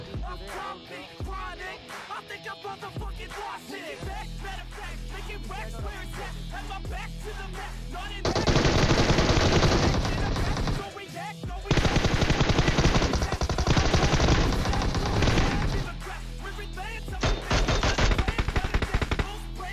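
PUBG gunfire plays in dense automatic bursts, with sustained loud volleys of rapid shots broken by short pauses and scattered single shots.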